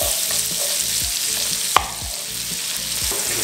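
Onions sizzle in a hot pan for chicken croquette filling, the steady hiss broken by regular spatula strokes scraping the pan and one sharp clink partway through, close and clear with no talk.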